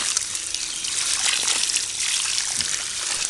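Water trickles and splashes steadily over a Lego Technic car (set 42077) as it is rinsed clean, a continuous close-up hiss of running water without pauses.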